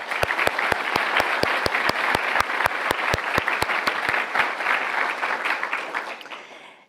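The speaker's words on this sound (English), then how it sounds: "I want to give them a round of applause." A pharmacy school White Coat Ceremony audience gives the admissions and recruitment team a full, loud round of applause, with sharp regular claps standing out over the dense crowd clapping, which fades near the end as a voice begins.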